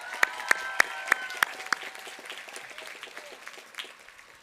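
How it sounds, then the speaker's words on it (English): Commencement audience gives the wind ensemble a short round of applause, led by a few sharp, close claps at the start, then a softer, thinner patter that fades out over a few seconds. "Let's give them another round of applause."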